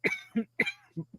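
A quick series of short, harsh coughs in rapid bursts, close and fairly loud, with brief pauses between.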